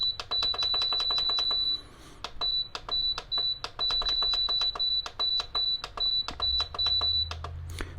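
Delonghi compact digital ceramic heater giving a rapid series of electronic beeps as its timer is set, steady repeated tones with short gaps, close and loud over a faint fan hum.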